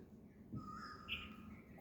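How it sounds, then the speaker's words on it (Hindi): An Asian koel calls in the morning: a single faint, clear whistled note rises out of quiet background hiss, heard at a distance. "कोयल की कूक"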